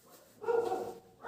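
A dog barks once at a distance, a short, faint, muffled yelp in the middle of an otherwise quiet moment.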